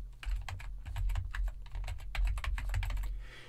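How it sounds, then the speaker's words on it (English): Rapid keystrokes on a computer keyboard while an FTP site address is entered on a Windows 7 machine, dense irregular clicking filling the whole stretch, close and steady with no talking. "So I type in the address here."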